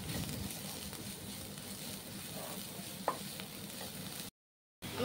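Shallots and onion sautéing in a pan for karimeen curry, a soft, even sizzle with a sharp tap of a utensil midway, quiet and close before a brief silence.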